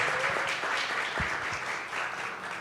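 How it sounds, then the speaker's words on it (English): Conference audience applauding, a dense steady wash of many hands clapping at moderate distance, continuous through the whole stretch with no voices on top. "Let's give them a big round of applause."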